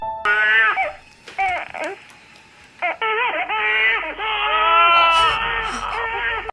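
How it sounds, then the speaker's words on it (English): A baby cries through a baby monitor in a horror film scene, loud broken wails with short gaps, slightly tinny and close, building into longer sustained cries. "her baby monitor alerts her of her child crying"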